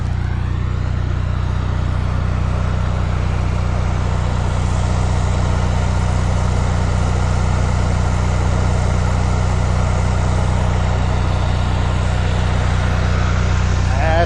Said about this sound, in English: Generator's running.